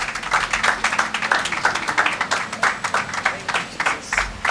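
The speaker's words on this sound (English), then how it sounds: "So with a round of applause, please join me welcome the founder of Ibom Soups, Pastor Itoro Effiong Bright." Round of applause from a church congregation welcoming a pastor to the stage, many hands clapping in a dense, steady patter that stays fairly loud throughout.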